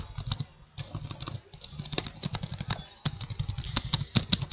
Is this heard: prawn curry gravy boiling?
no